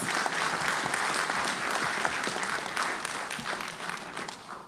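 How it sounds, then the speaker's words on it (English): Steady applause from an audience at a public address, dense continuous clapping that fills the space, loud at first and slowly easing off, with no speech over it. "You should give yourselves a round of applause."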